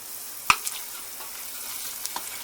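Onions and garlic fry in a pan with a soft, low sizzle, broken by a sharp clink or stir near the start and a couple of faint taps later.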